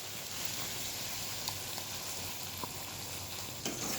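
Ground spice paste being stirred into ridge gourd frying in oil in a pan over low flame, a steady close sizzle with occasional soft scrapes and clinks of the spoon, no voices.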